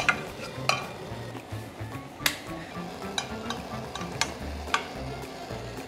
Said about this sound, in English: I'm melting the butter in.